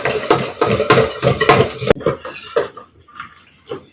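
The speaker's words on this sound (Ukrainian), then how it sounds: "Перемішую гарненько." Custard mixture for a Napoleon cake, with cold milk added, stirred in a pot: a run of loud clattering scrapes and knocks of utensil against the pot, then softer, sparser stirring sounds.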